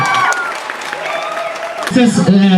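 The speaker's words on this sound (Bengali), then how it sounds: "এই ভালোবাসার জন্য সবাই একটা হাততালি দিন।" A live audience bursts into brief applause and cheering, a dense wash of clapping under a speaker's voice, rising toward the end.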